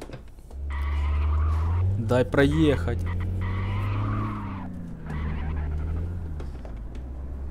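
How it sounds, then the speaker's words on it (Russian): A Saab 9-3 Aero in the driving game City Car Driving brakes hard, its tires squealing in a sustained skid for several seconds over the steady engine drone, while someone speaks briefly over it. "Так, оттормаживаемся, оттормаживаемся."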